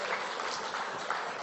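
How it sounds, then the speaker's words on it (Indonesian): Audience applause for a speaker's mother at a lively talk, a steady wash of clapping filling the whole moment without pause. "Tepuk tangan buat ibu saya."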